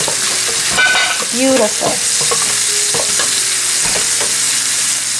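Red salsa sizzles and fries in a hot pan while being stirred, with scraping utensil strokes against the pan throughout; a voice speaks briefly over it.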